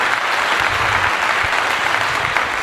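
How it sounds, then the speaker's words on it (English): A studio audience at a sports talk show gives a standing ovation: dense, steady applause fills the whole stretch, loud and continuous without breaks. "They were standing when they were clapping. Well-deserved standing ovation."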